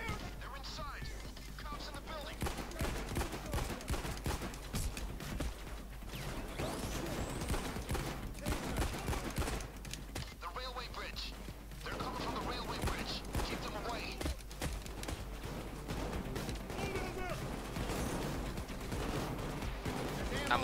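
Rapid gunfire in the Payday 2 heist shooter, including an RPK light machine gun and an AMCAR rifle: dense, continuous bursts of shots mixed with game chaos, fairly faint, under players talking.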